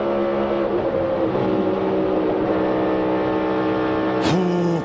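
A race car engine at Daytona holds a steady high drone, then briefly dips and surges back as the throttle reopens, loud and continuous.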